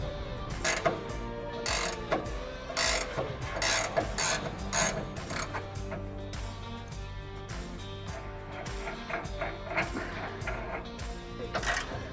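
Nuts being removed from the rear bumper bolt plate of a 2007–2013 Chevy Silverado, one 21mm and two 18mm, giving close repeated metallic ratcheting clicks in busy bursts throughout with no talk.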